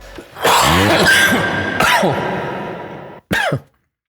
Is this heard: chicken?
no